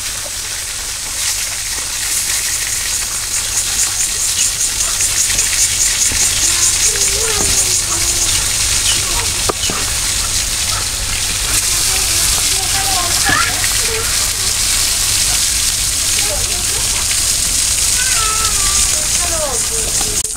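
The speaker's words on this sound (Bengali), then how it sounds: "আমার মাছটা ভাজা হয়ে গেছে" Fish fries in a pan over a village cooking fire, giving a steady, loud sizzle and crackle that runs throughout, with occasional faint voices in the background.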